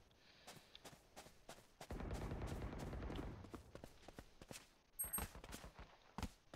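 Pistol fire in Valorant, a series of sharp separate shots popping at an uneven pace, with a denser burst of noise in the middle, fairly faint overall.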